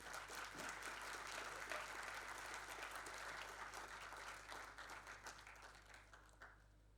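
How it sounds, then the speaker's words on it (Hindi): Audience applause fills a hall at a defence literature festival, a steady, dense burst of clapping that holds for several seconds before thinning out toward the end, heard fairly faint and distant. "पीछे से ताली की आवाज़ कम आ रही है।"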